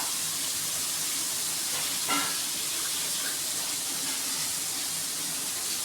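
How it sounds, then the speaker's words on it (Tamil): Tomatoes sauté in a pan for masala macaroni. A steady, loud sizzle and hiss of frying carries through with little change, with one brief stir or clink midway. "அடுத்தது தக்காளி போட்டு வதக்கிக்கலாம்"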